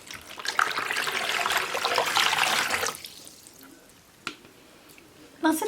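Hot water pours from a large 2-litre carafe into a basin in a steady splashing stream for about three seconds, then stops, followed by a few faint drips and knocks.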